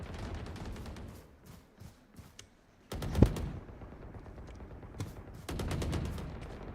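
Gunshots in a video game during target shooting practice: sharp single and rapid bursts of fire in clusters separated by quieter gaps, with one especially loud crack midway and a sustained volley near the end.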